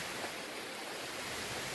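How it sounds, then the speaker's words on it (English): A small babbling brook along the Black Forest Trail in Pennsylvania's woods gives a steady, close wash of flowing water, even and unbroken, with no one speaking. "It's just been this little babbling brook."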